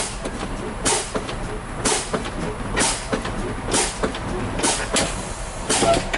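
Repeated bursts of air hissing from a tractor-trailer's air brakes as they are pumped in a steady rhythm, about once a second during a pop-out test, close and fairly loud over a low background rumble.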